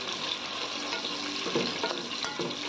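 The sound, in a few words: whole cumin and garam masala frying in soybean oil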